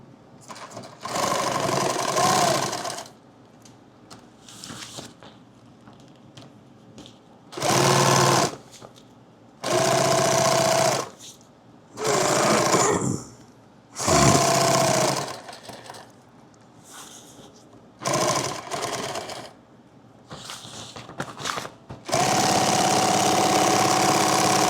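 A sewing machine stitching a laptop bag, running in several distinct bursts of steady rapid mechanical whirring, each lasting a few seconds, with near-silent pauses between and one long run at the end.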